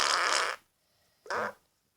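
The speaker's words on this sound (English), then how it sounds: "Windy fart." Two breathy, windy fart sounds, one lasting about half a second and a second shorter one, are separated by brief silence and played close and clear.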